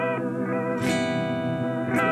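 Sustained electric guitar tone through a Thermae modulation pedal on its sine wave setting, smooth and gently wavering, loud and close, notes ringing with a brief pick attack partway through.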